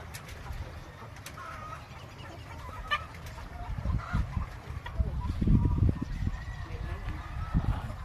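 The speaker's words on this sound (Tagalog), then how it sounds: "Dami poultry, daming manok." Chickens cluck and murmur in a busy flock at a large poultry farm on Bantayan Island, Philippines, with a bird cooing now and then against a low, steady background hum.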